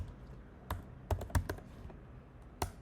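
Code being typed on a computer keyboard while building a React project, with a handful of isolated key taps and a quick cluster in the middle, close and fairly quiet with no talk.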